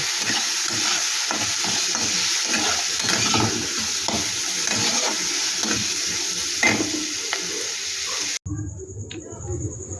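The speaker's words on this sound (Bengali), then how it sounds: "এটাকে এবার একটু আমি নাড়াচাড়া করে মিক্সিতে নিয়ে আমি পেস্ট করে নেব" A spoon stirs a thick turmeric and chilli powder mixture in a pan for dum aloo, giving a steady scraping and sizzling texture that ends abruptly near the close.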